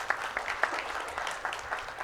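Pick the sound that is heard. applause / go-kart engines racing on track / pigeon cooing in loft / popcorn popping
applause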